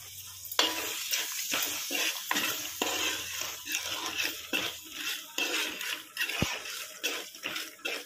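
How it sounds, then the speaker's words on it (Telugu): Chicken curry with garam masala stirred in a hot oiled pan, sizzling and frying under rhythmic scraping strokes of a spatula, close and steady with no talking. "ఇదంతా వేసి బాగా కలిపేయండి."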